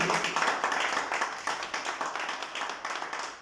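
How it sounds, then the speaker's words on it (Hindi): Hearty audience clapping at a Holi Sneh Milan fan club gathering, a continuous wash of many hands with slight rhythmic surges, fading a little toward the end. "हम सभी जोरदार तालियां बजा दीजिए।"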